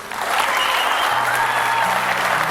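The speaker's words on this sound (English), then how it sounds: "So give them a round of applause, please" A graduation audience applauds the graduating students, a thick, even wash of many hands clapping at once, loud and sustained throughout with no pauses.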